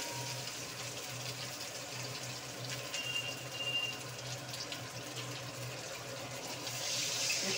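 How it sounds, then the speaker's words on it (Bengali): Water pouring into a cooking pot as a steady, continuous flow that swells slightly toward the end, heard alone without talking. "একটু জল দিলাম"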